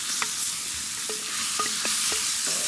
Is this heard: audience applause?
no